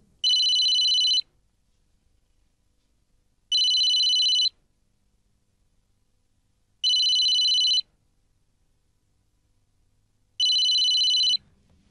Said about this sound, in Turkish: Telefonun çalıyor Sedat.